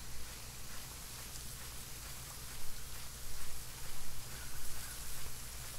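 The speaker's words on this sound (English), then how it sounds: "I can't hear anything because of the damn rain." Heavy rain in the horror video game Rake, a steady dense hiss of downpour filling the scene with no voices, slightly swelling in loudness toward the end.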